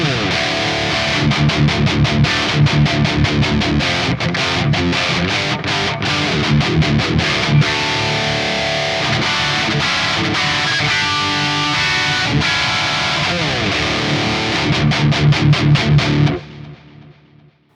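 Heavily distorted electric guitar chugs and riffs through a modeled Mesa Boogie Dual Rectifier amp, thick, saturated high-gain tone, playing continuously and loudly before cutting off at the end.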